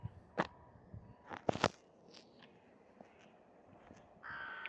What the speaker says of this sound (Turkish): Bak kargalar ötüyor.